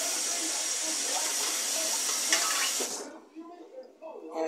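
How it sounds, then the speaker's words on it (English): Water pours steadily into a metal container for about three seconds, then stops, leaving faint clinks and handling noises. "put water in a can."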